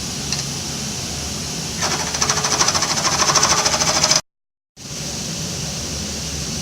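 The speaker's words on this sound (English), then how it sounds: "Your next step is to just gently turn the cylinder down until it's the diameter that you're interested in." A pen blank of wood spinning on a lathe is turned down toward a 7/16-inch diameter, giving a steady broadband whir with a brief rougher cutting stretch and a short dropout partway through.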